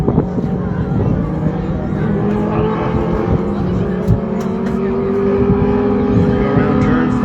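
Modified race cars roar around a dirt track during a main event at Battle Mountain Raceway, a steady, loud, droning engine blend with shifting pitches as the pack circles, while an announcer talks over it.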